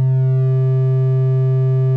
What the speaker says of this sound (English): Wave folding is like a distortion